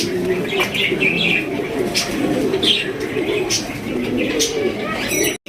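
Pigeons coo continuously at close range, low rolling calls layered with occasional sharp chirps and faint background voices.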